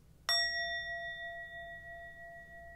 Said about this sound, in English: I'm going to ding the sound bell to open the space